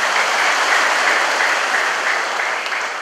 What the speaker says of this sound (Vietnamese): Xin cộng đoàn cho một tràng pháo tay.